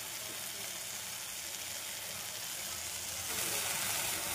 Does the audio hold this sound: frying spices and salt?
yes